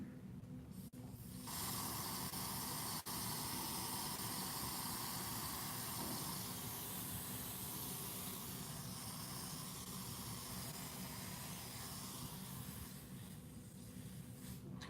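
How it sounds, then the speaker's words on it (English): Hairspray hisses from an aerosol can in one long, steady, close burst lasting most of the time, with a brief break near the start and the spray tapering off at the end. "Let me spray my hair first."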